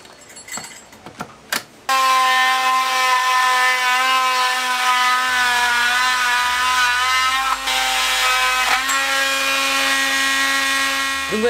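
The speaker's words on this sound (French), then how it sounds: "Il y a juste à continuer avec une scie et puis ça fera très bien l'affaire." A steady, loud mechanical whine with strong harmonics runs without pause after a brief clatter, as a saw cuts through a wooden board for making climbing holds.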